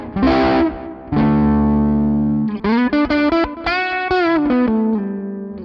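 Electric guitar through an Amplitube Mesa Boogie Mark III amp sim, played alone with a fuzzy, distorted tone: sustained chords followed by a quicker run of picked notes, loud and close.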